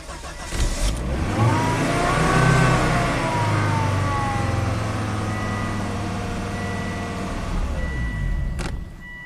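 A 2005 Volvo XC90 turbo engine idling and revving steadily up close, holding a continuous drone for several seconds before cutting out abruptly near the end, with a faint high whine above the engine.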